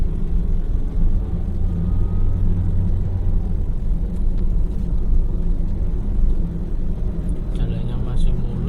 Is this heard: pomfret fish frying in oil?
no